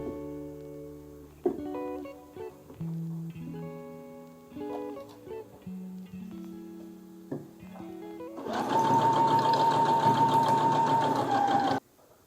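A sewing machine stitching the two ends of a pants waistband together, a quick close mechanical whirr of a few seconds that follows quieter handling and adjusting of the fabric.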